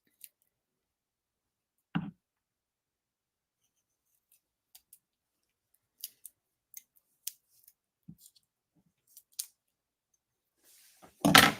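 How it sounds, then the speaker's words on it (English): Scattered soft snips and clicks of scissors cutting small strips of foam, a few isolated cuts spread across a mostly quiet stretch, close by. "Wrong scissors for cutting little strips of foam"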